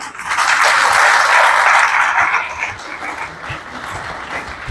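Audience applause at an NSCDC public enlightenment and sensitization programme, loud and sustained clapping that swells early, then eases to a lighter patter toward the end.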